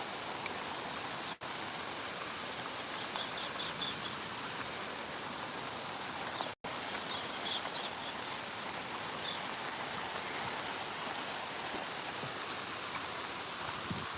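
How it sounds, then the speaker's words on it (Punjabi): Steady rain falls continuously, a dense even hiss of drops with no voices, briefly cutting out twice. "ਮੀਂਹ ਪੈ ਰਿਹਾ"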